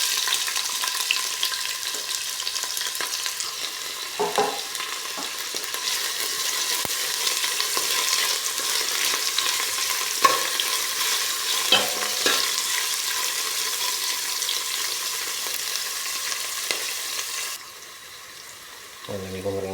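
Ginger and onion sizzle steadily in hot oil for a crab dish with coconut milk, with occasional stirring scrapes and clinks over a constant frying hiss, close up.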